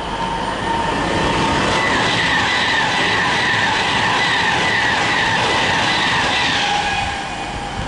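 Virgin train 390128 City of Preston rushes past at Milton Keynes Central, a loud, sustained rumble with a rising and falling whine, heard close and alone over about eight seconds.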